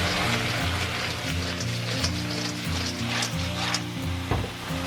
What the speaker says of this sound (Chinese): 我们就把花甲放上去， 给它爆炒个10来秒